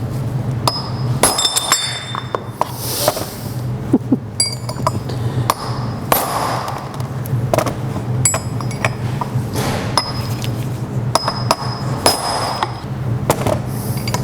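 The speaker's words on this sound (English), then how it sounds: "I'm going to take the punch, grab our hammer." Hammer blows on a steel punch driving parts out of a Porsche front upright on an Elva Porsche, a steady series of sharp metallic pings and clinks repeating close by with no talk.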